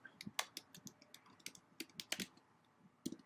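Quiet, irregular bursts of keystrokes on a computer keyboard, close by and alone, with short pauses between runs of clicks.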